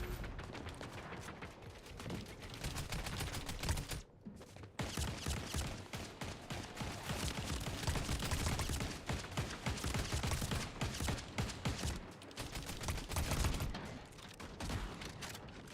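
Rapid bursts of hipfire gunfire in Fortnite, dense and nearly continuous across the whole stretch, with loud overlapping shots and a brief lull partway through.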